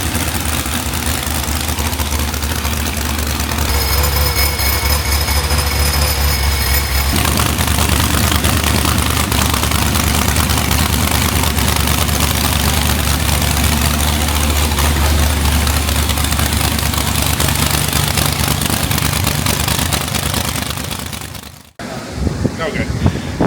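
A Procharger-supercharged street car wagon runs on a hub dyno, its engine roaring loud and steady for about twenty seconds before cutting off abruptly, with voices heard near the end.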